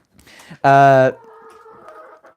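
Chickens in a backyard flock cluck close by, with one loud, drawn-out squawk in the middle and softer clucks before and after it.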